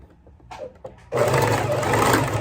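A sewing machine stitches the arm of a cloth doll: a few soft clicks and handling noises, then the motor starts and buzzes steadily and loudly to the end.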